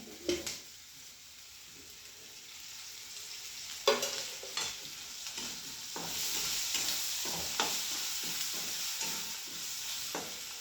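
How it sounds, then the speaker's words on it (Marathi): Onions seasoned with salt and turmeric sauté in oil in a village-style kitchen, a steady sizzle under repeated spatula scrapes and stirring clatters, close and moderately loud, with no talking. "आता परतून घेऊया"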